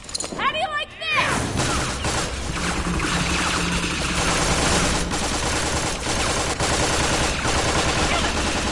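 Rapid gunfire rattles almost without pause in a Tales from the Borderlands shootout, dense bursts of shots filling the scene, with voices briefly heard at the start.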